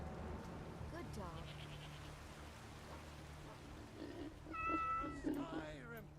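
A cat meows a few times in the game Skyrim, its calls rising near the end over a steady low hum and soft background ambience, with someone talking before the meows.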